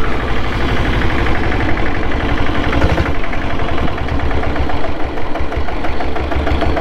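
A Royal Enfield Bullet diesel motorcycle engine idles steadily and close by, a loud continuous rumble with rapid low knocking pulses throughout.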